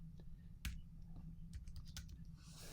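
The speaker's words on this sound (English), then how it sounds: "now I should be able to come over here and type in the function mileage" Typing on a computer keyboard: a handful of distinct, close key clicks in a loose, irregular rhythm, one sharper tap near the start, over a quiet room hum, with no speech.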